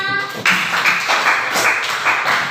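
A few people clapping in a small classroom-style presentation, a short run of light uneven claps that fade and return in loose bursts.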